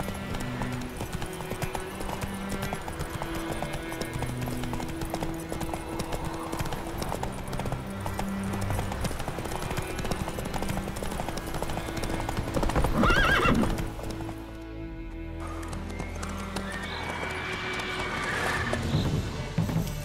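Hooves of Roach, a horse in The Witcher 3: Wild Hunt, clatter in a fast rhythmic gallop with a whinny, over game music and ambience, before the hoofbeats briefly drop out and then return.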